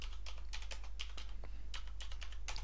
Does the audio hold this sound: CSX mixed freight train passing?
no